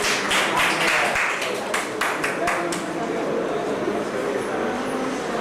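Scattered hand claps ring out over the chatter of a felicitation function at BARC Tarapur, sharp and irregular for the first few seconds before thinning into background room noise.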